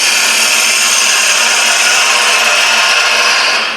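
A gouge rides the bevel against spinning wood on a lathe while a sphere is being turned, giving a steady, loud hissing scrape with a faint underlying motor hum that holds constant before easing slightly at the end.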